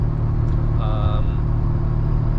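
Steady low road rumble from inside a car cruising on a long highway drive, a constant loud drone with a brief higher tonal whine partway through.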